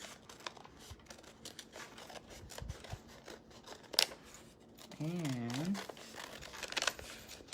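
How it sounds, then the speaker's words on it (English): Scissors cut around paper butterfly shapes at close range, a string of soft snips and rustling paper, with a sharp click and a brief vocal sound partway through. "So we're just gonna keep cutting around."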